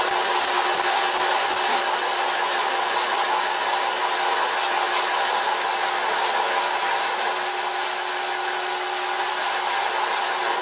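A continuous high-pitched whir of a lathe cutting metal into curly chips, steady and loud with a bright hissing edge and a faint tonal whine.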